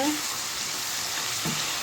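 Vegetables frying in a pan, a steady soft sizzle that runs evenly through the short moment.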